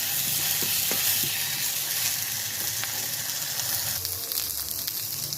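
Tomatoes for chilli chutney sizzle and fry steadily in a pan over a wood-fired stove, a continuous close hiss with faint stirring clicks.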